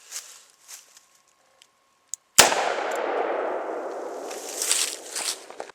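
A single sharp gunshot from a Ruger LCR .357 Magnum revolver cracks out at close range outdoors, followed by a long, loud rolling echo that slowly fades; faint footsteps and small clicks come before it.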